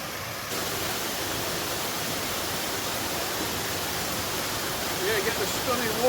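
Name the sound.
waterfall in a valley nature reserve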